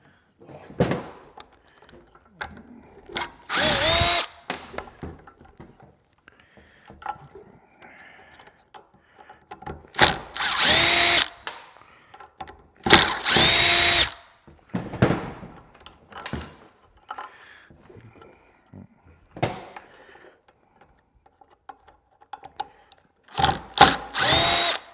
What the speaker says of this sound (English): Now we're going to disassemble this motor,